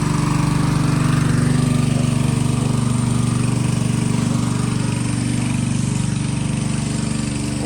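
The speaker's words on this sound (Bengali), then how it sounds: "এদিকে একটা মোটর বসানো আছে।" A motor running at a flooded construction site, a loud steady droning engine hum with constant low rumble and no break throughout.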